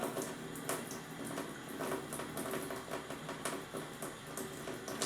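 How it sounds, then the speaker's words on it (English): Steady running water with soft sloshing and little splashes as makeup brushes are swished, lathered and rinsed close by, continuous throughout. "just wiggling those brushes, working up a lather"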